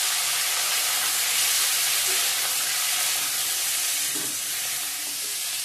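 Potatoes and tomatoes fry with ginger in a hot pan, giving a steady, loud, close sizzle and hiss throughout with faint stirring beneath.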